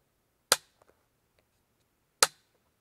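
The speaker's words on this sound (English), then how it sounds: "I'm going to give it a couple dry firings, maybe" Remington 700 bolt-action rifle dry firing, two sharp metallic clicks about two seconds apart, with faint mechanical handling noises between them, close and alone.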